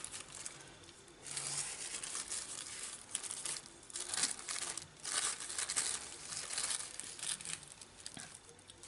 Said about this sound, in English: I'm putting my plastic wrap down